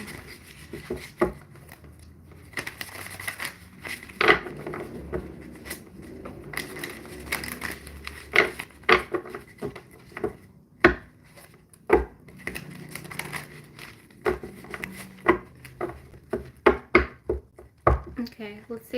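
Tarot cards being shuffled in repeated soft riffling and clattering bursts, close and fairly quiet, with a voice talking intermittently over parts of the handling.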